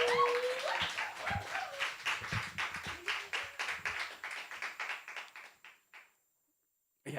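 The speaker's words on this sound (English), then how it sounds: "One more round of applause to all our hot features." Audience applause at a poetry open mic and costume contest, a dense burst of many hands clapping that thins into scattered claps and fades to silence near the end.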